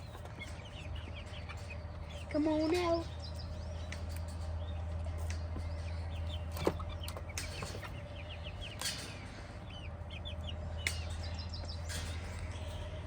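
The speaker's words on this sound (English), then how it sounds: "Are you chickens gonna come out and see?" Chickens in a backyard coop, giving soft intermittent clucks and chirps over a low steady hum, with a voice speaking briefly.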